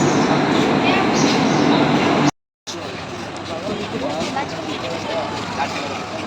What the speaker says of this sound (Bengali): ভোর 5:30 বাজে এসে নামলাম সিলেট রেল স্টেশনে।